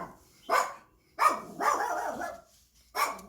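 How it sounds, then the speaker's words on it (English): A pet dog barks indoors in four sharp, loud bursts spread over a few seconds, one a longer drawn-out bark, with short quiet gaps between and no talking. "and that was my dog Penny."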